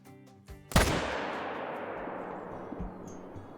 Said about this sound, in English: What a heck of a long shot.